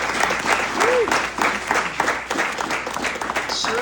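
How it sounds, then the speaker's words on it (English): Audience applause at an event honoring a three-term Maryland state senator, a steady wash of clapping from a crowd that carries on throughout at a fairly even level. "A big round of applause."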